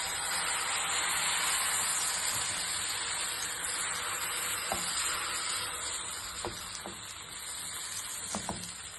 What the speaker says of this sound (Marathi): गॅस थोडं जास्तच ठेवायचं आणि अशा प्रकारे घावणे घालायचे.